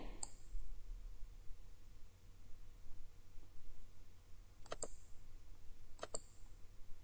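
Sharp computer mouse clicks during an antivirus software installation on a PC: one single click, then two quick double clicks spaced about a second apart, crisp and close against a quiet room.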